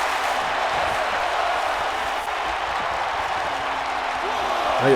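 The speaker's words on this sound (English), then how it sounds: "And this crowd here saying this is awesome. And they are loving Ryan Sparks." Arena crowd noise from a video game wrestling match, a steady broad roar of fans chanting throughout, loud and continuous with no distinct rhythm standing out.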